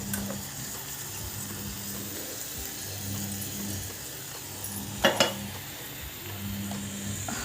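Green chili capsicum masala sautés in a pan, giving a soft steady sizzle with occasional stirring scrapes and a pair of sharp clinks near the middle, fairly quiet and without talk.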